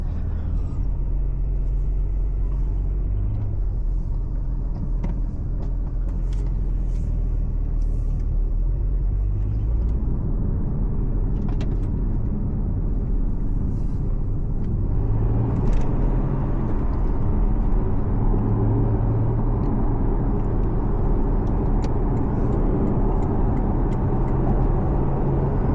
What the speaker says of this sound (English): the exhaust sounds so nice